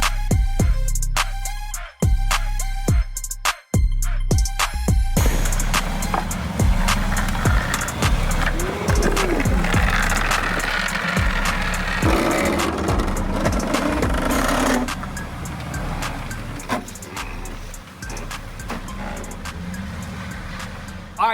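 A Mercedes-AMG GT S cranks through a few choppy starter bursts, then catches and settles into a loud, steady close-up engine rumble that eases slightly toward the end.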